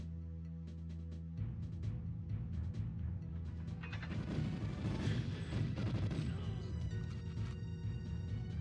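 Turret gunfire in the video game GoldenEye 007 Remastered rattles as a dense, continuous barrage of booming shots and crashes, building louder after the opening seconds, with an in-game hum underneath.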